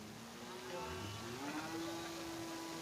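A cow lows in a rising, drawn-out moo at a cattle dealer's yard in Wonogiri, over a soft background hum.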